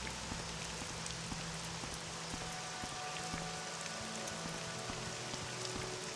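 Steady rain falls throughout the video game Morrowind, a constant dense hiss of drops on surfaces with no talk.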